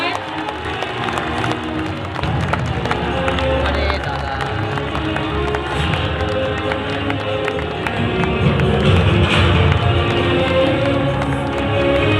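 Crowd applause at an outdoor public road-project foundation ceremony in Siliguri, a broad continuous clapping wash with crowd murmur, steady and fairly loud.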